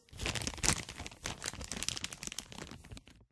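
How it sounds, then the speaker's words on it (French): Close, crisp crinkling of a plastic candy wrapper as a sweet is taken out, irregular rustling bursts for a few seconds with no talking, then falling silent. "Le bruit d'un paquet dans lequel on prend un bonbon en cachette."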